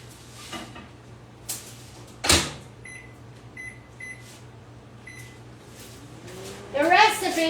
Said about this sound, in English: this is going to go in the microwave.